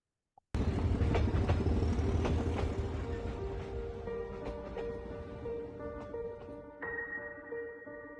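A train rolls along the tracks, breaking in abruptly after a short silence with a loud rumbling clatter. It settles into a steadier hum with sustained tonal whines toward the end, and no voices are heard.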